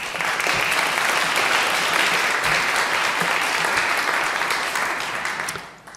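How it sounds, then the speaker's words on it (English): An audience at a discussion event applauds a welcomed panelist, sustained even clapping from a full room that fades out in the last second. "Round of applause for Barbara."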